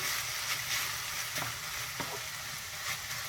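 A minced meat filling is stirred in a frying pan over a continuous, fairly loud sizzle, with a few light spatula taps breaking through.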